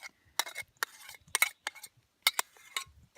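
Two diced mangoes and two avocados go into a bowl for a salsa at a campfire, giving a handful of distinct clinks and soft knocks of utensil on bowl with quiet gaps between.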